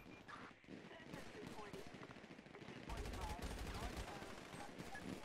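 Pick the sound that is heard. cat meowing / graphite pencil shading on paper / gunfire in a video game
gunfire in a video game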